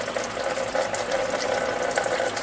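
Water gushes and sprays in a steady, dense splashing hiss from the rusted, seized engine of a 1972 Corvette, loud and continuous throughout with no speech.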